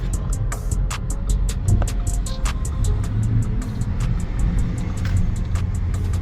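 An Audi Q7 on air suspension in comfort mode is driven, a low steady engine and road rumble heard from inside the cabin, with regular ticking clicks over it and no talk.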